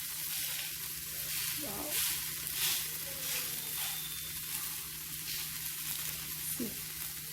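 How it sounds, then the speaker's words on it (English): A ragi millet dosa sizzles and crackles on a hot pan as it roasts, a steady fizzing with a few scrapes, while a voice briefly exclaims. "You need to roast the dosa on both the sides."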